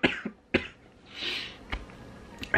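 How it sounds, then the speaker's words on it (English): A few sharp, separate coughs close to the microphone, with a breathy pause between them, in an otherwise quiet room. "I hate coughing."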